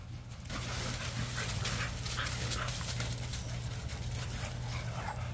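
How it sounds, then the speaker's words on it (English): Several bully-breed dogs run around a kennel panting, with close, rapid breathing, snuffles and light movement noise under a constant background hum. "letting the dogs run around"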